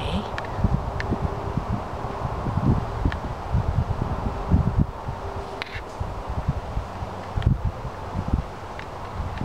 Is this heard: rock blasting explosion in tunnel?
no